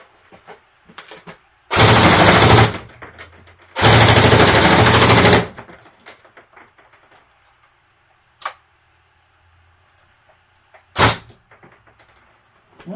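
An automatic gun fires two long, loud, sustained bursts of rounds up close, separated by a short gap, followed by a few isolated sharp mechanical clacks and faint handling noise.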